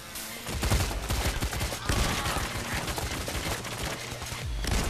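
Rapid pistol gunfire from a first-person heist shooter, dense overlapping shots with heavy low thumps and bright crackle running steadily throughout, busy and loud with game effects layered in.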